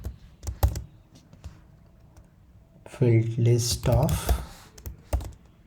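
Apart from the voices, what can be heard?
typing Python code on a computer keyboard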